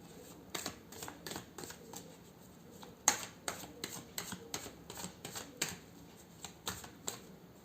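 Tarot cards are shuffled by hand nearby in quick, irregular flicks and snaps that continue alone without a pause.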